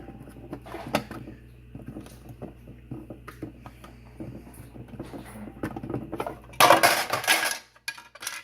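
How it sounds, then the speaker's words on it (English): An old water filter is pulled out of a DeLonghi coffee machine, giving small plastic clicks, taps and scraping knocks scattered through the clip, then a louder rattling clatter near the end before it falls quiet. "Remove the old filter."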